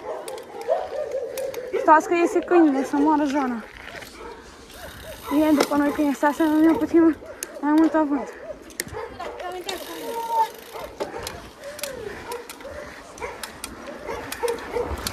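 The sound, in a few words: dog barking and whimpering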